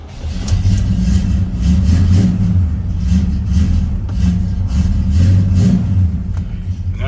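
A classic car engine, one of a fleet including a '67 LeMans, starts and runs with steady, loud rumbling revs that swell and ease back under faint background voices.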